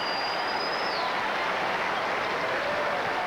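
A tennis crowd at a 1997 Indian Wells women's quarterfinal applauds a break of serve with a dense, steady wash of clapping that holds evenly for the whole stretch, with no voices.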